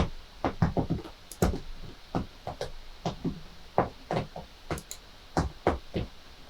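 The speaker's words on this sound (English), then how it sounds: "that's the cat attacking the sofa again." A cat scratching a sofa: repeated scratchy, scraping bursts in irregular clusters, fairly close, with brief pauses between flurries and no talking.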